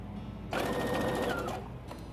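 A sewing machine runs a quick burst of stitching through fabric for a pillowcase dress, a fast close whir lasting about a second before stopping.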